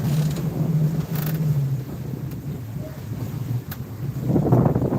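Wind and ocean surround a sailboat out at sea at night, a steady low rushing and buffeting against the microphone with soft swells of water noise and no talking.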